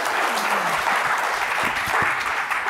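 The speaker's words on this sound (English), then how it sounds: "Please give them a round of applause." Conference audience applauding after panelists and a moderator are introduced, a dense steady clapping that fills the room for the whole stretch.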